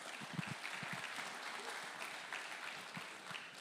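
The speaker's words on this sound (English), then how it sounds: "Round of applause for Mike" An audience applauds a man named Mike, with steady, full clapping that holds for several seconds and no voices over it.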